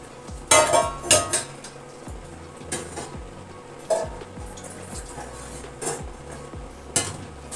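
A cooking pot handled while carrots are set to boil for halwa, several sharp metallic clanks and knocks spaced a second or so apart, close and fairly loud, with no talking.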